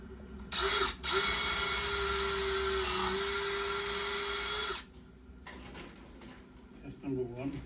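A small electric drill whines loudly and steadily for about four seconds while boring a test hole for a wall plug, then stops, leaving quiet handling noises and brief mechanical rattles.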